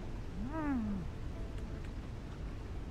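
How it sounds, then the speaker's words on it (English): A pet cat gives a single short rising-then-falling meow, close and fairly clear, over quiet background, followed by a few faint ticks. "I love this little cat so much."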